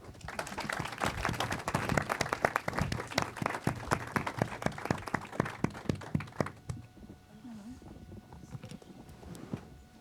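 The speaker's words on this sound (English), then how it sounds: "give a big round of applause to Damian, Isolde, Lola, and Alejandra" An audience claps for the panelists at the end of a film festival panel discussion, with loud, uneven clapping for about six and a half seconds before it stops and a quieter room remains.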